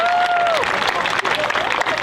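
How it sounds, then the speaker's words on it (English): Outdoor Pride rally crowd breaking into applause and cheering, a dense wash of clapping with a whistle-like tone rising over it near the start, fairly loud and steady throughout. "Let's give it a huge round of applause."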